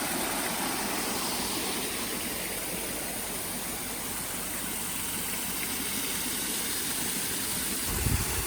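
Waterfall at Rainbow Springs State Park, Florida, pouring as a steady, broad rushing wash that stays even and close throughout, with a faint low bump near the end.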